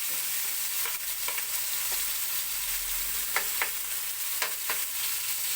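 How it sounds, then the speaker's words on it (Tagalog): Garlic, onion and tomato sauté in a hot pan with a steady, close sizzle, broken by occasional sharp scrapes and knocks as a utensil stirs them. "ginigisa ko na po ang ating bawang sibuyas at kamatis para sa ating dinailan"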